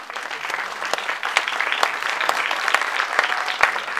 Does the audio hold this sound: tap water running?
no